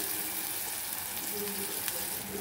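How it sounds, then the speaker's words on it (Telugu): Buttermilk poured into hot tempering for majjiga charu sizzles with a steady, fairly quiet frying hiss, close and even throughout, without talk. "తాలింపులో మజ్జిగ పోసేస్తున్నాము"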